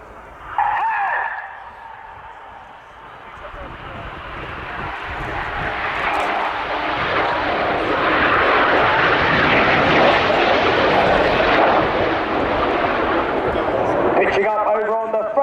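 Red Arrows Hawk jets roar through the Cyclone manoeuvre at an air tattoo, a broad jet rumble building and holding loud before easing, with a commentator's voice over the engines near the start and end.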